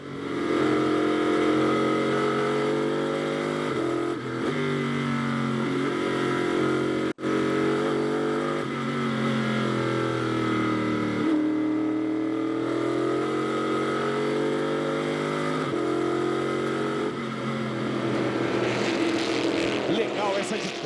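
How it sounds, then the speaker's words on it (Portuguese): A race car engine roars steadily on a circuit, loud and sustained with rising and falling revs as the car accelerates and lifts, under ongoing commentator talk. "Agora o ronco do motor do Kaká Bueno."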